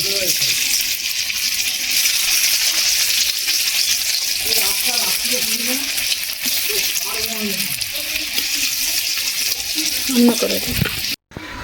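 Cabbage dhoka pieces deep-frying in oil, a steady loud sizzle running through the whole stretch with a voice talking over it, cutting off abruptly near the end.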